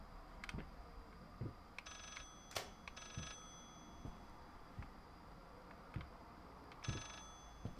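In the horror game Layers of Fear, a telephone rings in short repeated electronic bursts, faint and somewhat distant, spaced out among scattered footstep-like thuds, with no one talking.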